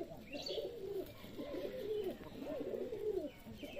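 Pigeons in a loft on a Rajshahi pigeon farm coo in soft, repeated low rolling phrases, close by and fairly quiet, with a faint higher chirp in the background and no talking.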